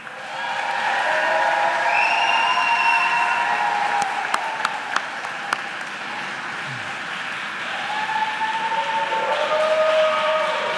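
Graduates applaud their supporters at a university School of Education pre-commencement ceremony, a broad, steady roar of clapping in a large hall that swells in, holds, then fades, with a few sharp claps standing out and tonal sounds drifting through.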